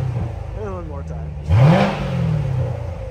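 A 2016 Corvette Z06 2LZ automatic coupe gives one sharp rev from a rumbling idle, and the engine note rises and settles back. Someone talks briefly beforehand.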